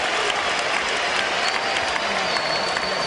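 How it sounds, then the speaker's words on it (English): A boxing arena crowd gives sustained, dense applause with a faint murmur of cheering, loud and steady throughout. "we get a decent round of applause there"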